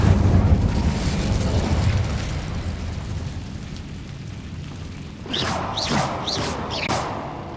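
An Incendio fire spell erupts in Hogwarts Legacy with a loud, roaring blast that settles into a sustained rumble, followed by a few sharp crackling pops near the end.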